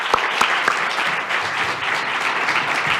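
Sustained audience applause at a Chicago MLK Jr. oratory competition, a dense, steady wash of many hands clapping with a few sharper nearby claps, continuing evenly throughout without talk.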